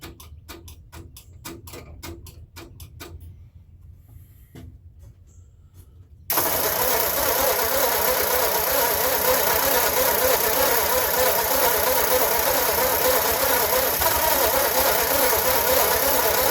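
An old Ford hot rod's starter cranks in rapid ticking bursts with brief pauses, then the engine catches and settles into a loud, steady, rough idle that runs to the end.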